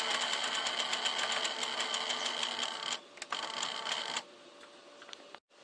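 A sewing machine edge-stitches the underlap of a sleeve placket with a quiet, rapid, even mechanical chatter. It pauses briefly, runs again, and then stops with a small click.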